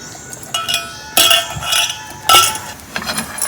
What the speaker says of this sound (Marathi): पण आपण मॅश करून घ्यायचं आहे, पूर्ण असं मॅश करायचं आहे.